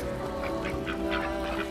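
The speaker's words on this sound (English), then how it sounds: "My ducks are down here." Ducks being fed seed quack in a string of nasal calls, several birds close by and fairly loud, over a steady low background hum.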